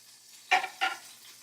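A knife cuts food into strips on a noisy cutting board in a home kitchen, two quick sharp chops about a third of a second apart against a quiet background.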